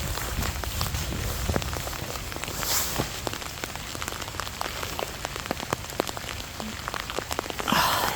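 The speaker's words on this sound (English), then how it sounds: "Oh, it's rain." Steady rain patters and drips around the abandoned Lennox Castle, a dense continuous wash with scattered sharper drop hits, moderately close and with no voices.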